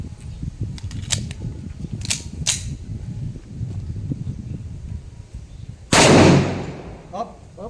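A single sharp gunshot bursts out close and loud near the end, fired at a man testing a protective amulet, following a stretch of murmured talk and clicks.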